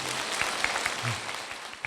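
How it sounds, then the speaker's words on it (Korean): Brief audience clapping during a Buddhist question-and-answer talk, a short burst of applause from a seated crowd with a few sharper individual claps standing out. "열심히 살은 우리 이 남자를 위해서 박수 한번 쳐주세요"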